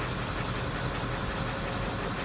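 A cold car engine idles roughly before warming up, a steady dense rumble with an uneven, missing rhythm, loud and close throughout.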